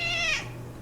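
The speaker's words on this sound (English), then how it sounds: "If you hear that is my cat Piper." A house cat lets out a single clear, close meow that rises and then trails off, heard alone without talk.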